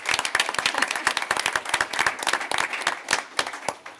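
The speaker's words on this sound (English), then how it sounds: "So round of applause for our Tigers." A school board meeting audience claps for the varsity football team that made the playoffs: a dense round of many hands clapping, steady and fairly close throughout, with no talking over it.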